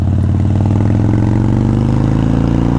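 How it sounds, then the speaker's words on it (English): A 2017 Harley-Davidson Street Bob fitted with loud Rush mufflers idles close by, its deep, lumpy V-twin exhaust pulsing steadily and very loud with no other sound. "Feels like it's got a set of Rush mufflers on it. They're pretty loud."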